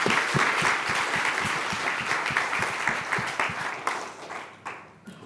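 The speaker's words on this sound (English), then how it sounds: "give the excellent members of the panel an applause to thank them for their contribution" Applause from a conference audience at a general assembly thanking a panel, dense clapping that is loud at first and then thins and fades over about five seconds.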